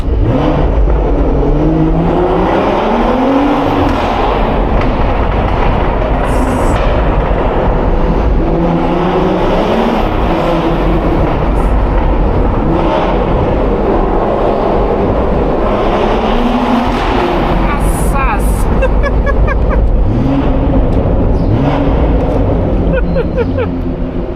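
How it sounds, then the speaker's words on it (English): A BMW 440i engine (330 hp) revs hard and repeatedly while driving, rising and falling in pitch as it accelerates, loud and continuous throughout. "this car just sounds insane under here."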